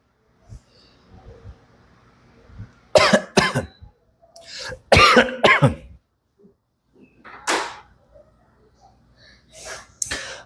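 A preacher coughs during a church sermon, bothered by a fan's draft. Several loud, harsh coughs come close up in irregular clusters, with quieter throat noises and breathing between them.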